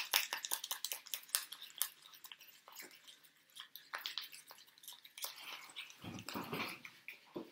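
A paste for an eye and lip mask is stirred in a bowl, quiet wet clicks and scraping taps in quick irregular bursts, close and faint, with a duller smear of stirring toward the end.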